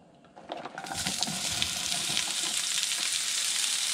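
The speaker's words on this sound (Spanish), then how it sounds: "en poquita manteca voy a guisar las cebollas" Onions dropped into a little hot lard in a pan, starting with a near-silent moment, then a sudden crackling burst that settles into a dense, steady sizzle growing slightly louder, with faint stirring.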